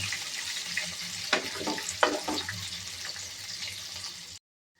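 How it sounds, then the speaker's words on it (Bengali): Chopped onion and tomato frying in a pan for a catfish curry, a steady broad hiss with a few sharper spatters and stirring scrapes, fairly close and moderately loud, no talking, ending abruptly in silence. "পেঁয়াজ আর টমেটোটা সামান্য একটু নরম করে ভেজে নেব"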